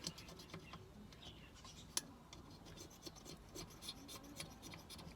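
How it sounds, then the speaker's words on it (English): Old gasket material is scraped off a part of a Stihl 070 chainsaw being converted to a 090, producing faint, close, dry scratching strokes with small ticks, quiet throughout. "I just use it to scrape all this"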